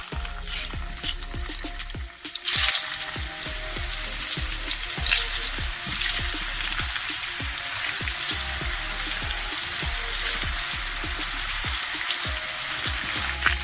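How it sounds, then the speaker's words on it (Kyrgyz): Potato slices with minced meat fry in a pan, a loud continuous sizzle with crackling and occasional clinks of a utensil, steady throughout after a brief quieter start. "Картошканы ушундай кылып тизип пиширип алабыз."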